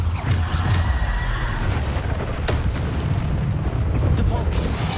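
Bombarda blasting spell from Hogwarts Legacy erupts in a dense, continuous booming blast with heavy low rumble and crackling bursts, loud and close throughout the clip.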